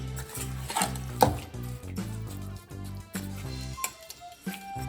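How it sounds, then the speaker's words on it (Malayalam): A spoon stirs ginger curry with vinegar in a pot, giving a steady run of soft ticking scrapes and light clinks at close range over a low background hum, with no talking. "എന്നിട്ട് നമുക്ക് നല്ലോണം ഇതുപോലെ ഒന്ന് ഇളക്കി കൊടുക്കണം."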